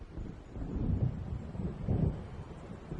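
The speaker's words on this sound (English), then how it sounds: "It seems there's a storm coming." Thunder from an approaching storm in Alan Wake Remastered rolls as a low, muffled rumble that swells twice, around the one- and two-second marks, over a constant windy hiss with no voices.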